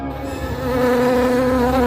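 Bees buzz loudly and continuously, a dense droning hum with wavering pitch, close to the listener and with no other sounds.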